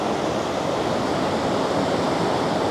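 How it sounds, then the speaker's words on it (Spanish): Ocean surf at El Majahual beach in El Salvador rolls in as a steady, close, broadband rush of breaking water, unbroken for the whole stretch with no voices. "¡Uy, vienen las olas!"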